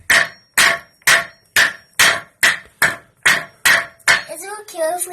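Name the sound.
hammer hitting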